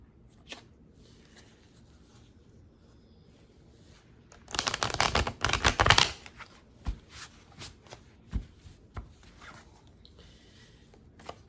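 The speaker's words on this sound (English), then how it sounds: "I feel like I need to shuffle it one more time." Playing cards are riffled and shuffled in a quick, crisp burst lasting over a second, surrounded by quiet pauses and a few soft taps and clicks.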